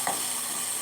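Tomato paste frying in a pot as it is stirred, a steady, close hiss of sizzling with a brief scrape of the spoon near the start, no voices.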